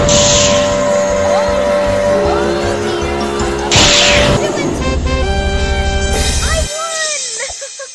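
Go-kart engine buzzing and revving in a Roblox race, with loud close motor drone, whooshing effects and a squeal, layered under game music and a talking voice.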